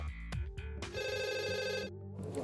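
A telephone rings at a police emergency call center with a bright electronic trill, sounding in a short burst and then a longer sustained ring, fairly clear.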